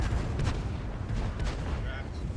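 A heavy tank cannon shot booms in a World War II tank video game set at Prokhorovka, amid continuous low engine rumble and battle noise, with players talking over it.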